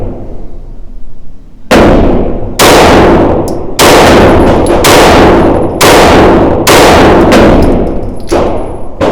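Six loud rifle shots fired at an even pace, each a sharp crack with a ringing tail, from a rifle fitted with a Radian Afterburner and Ramjet running a stock spring; no talk.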